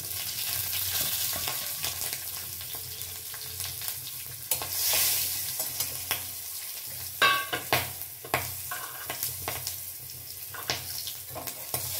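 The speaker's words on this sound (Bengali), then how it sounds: "একটু পাঁচফোড়ন আর একটু লাল সর্ষে, এই দিয়ে আমি সম্বরা করছি" Split dried red chilies, turmeric, panch phoron and red mustard seeds tempering in hot oil, a bright steady sizzle with crackling pops and a few clustered stirring scrapes later on.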